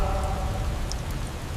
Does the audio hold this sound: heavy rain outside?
yes